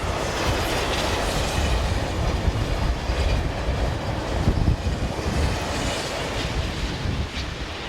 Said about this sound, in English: Z23500 double-deck units also appear on local trains